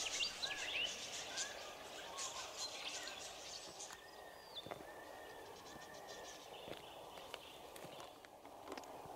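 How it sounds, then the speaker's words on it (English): Birds calling along Irregully Creek in the Pilbara on an evening walk, faint chirps and short calls scattered over soft footsteps and quiet outdoor background. "The bird sounds were very nice."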